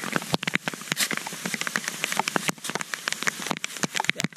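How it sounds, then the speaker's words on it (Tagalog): Heavy rain patters steadily on a nearby surface, with dense, crackling drops and sharp individual splats throughout, fairly loud with no talking. "Grabing ulan, mga kajirik ko."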